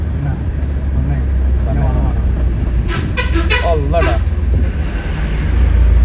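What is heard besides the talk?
lorry behind honking and braking while trying to climb onto the road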